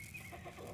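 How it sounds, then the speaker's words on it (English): A horse whinnies in the Farmers Life video game, a faint wavering neigh heard distantly over a steady background drone of farm machinery. "Oh, it's a horse."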